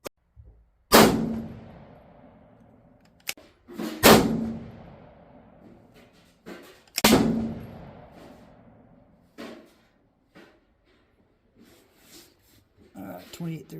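Three loud, sharp 7mm Remington Magnum rifle shots firing Hornady 162-grain ELD-M loads ring out outdoors, each followed by a long decaying echo, with quieter clicks and handling noises between and after them.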